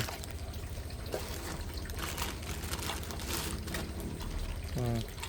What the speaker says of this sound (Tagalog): Dito lumalabas tubig, dito siya magko-close.